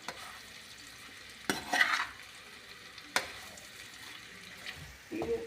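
Radish pickle sizzling in a pan as a spoon stirs it, a steady soft frying hiss broken by a few sharp scraping strokes, close and fairly quiet with no talking.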